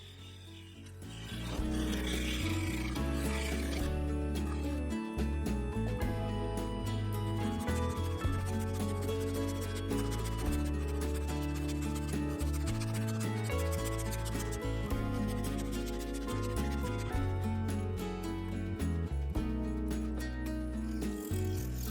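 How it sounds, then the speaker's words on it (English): Handsaw cutting through cherry wood with a steady, rhythmic back-and-forth rasp, close and continuous for about twenty seconds with no talking. "so I finished it off with a handsaw"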